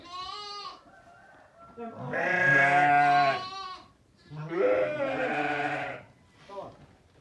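Sheep and lambs bleat on a Ukrainian farm, with several loud, wavering calls close by, one after another, and short quieter gaps between them.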